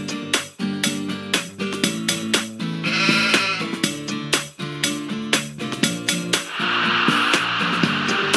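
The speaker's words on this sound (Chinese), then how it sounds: "小羊小羊咩咩咩" Lamb bleating, a quavering bleat followed later by a longer wavering one, laid over a bright, bouncy children's song with steady beats.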